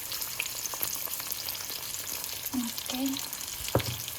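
Eggs sizzle and crackle steadily in a hot breakfast pan, a close, continuous frying hiss with a brief spoken word over it and a small clunk near the end.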